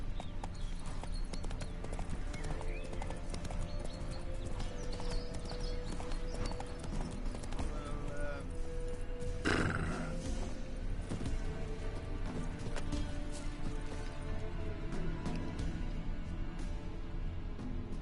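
Roach, the horse in The Witcher 3 game, trots with steady clip-clop hoofbeats throughout, with a brief louder burst midway that may be a neigh, set against continuous ambient game sound.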